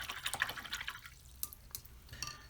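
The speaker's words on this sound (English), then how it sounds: "Oops, I didn't rinse my brush well." Paintbrush swished and tapped in a water jar during watercolour painting, giving quick close drips and splashes in a short burst, then a couple of lighter isolated drips.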